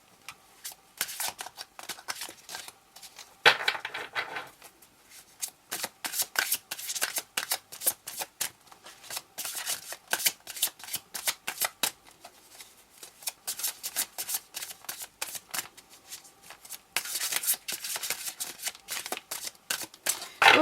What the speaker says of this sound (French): Pendant ce temps-là, je mélange les cartes.